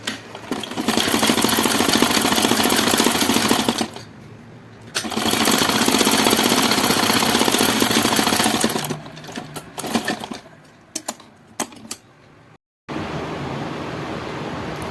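An electric sewing machine stitches the front of a katori blouse with fast continuous whirring runs, one long burst, a short pause, another long run, then several brief stop-start bursts and a last sustained stretch.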